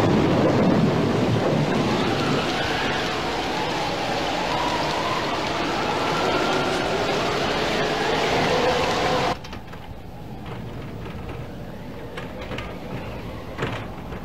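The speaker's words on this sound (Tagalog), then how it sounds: "Ang lakas ng hangin." Strong wind and heavy rain storm roar as a loud, continuous wash that drops abruptly to a quieter steady hiss partway through, with no voices.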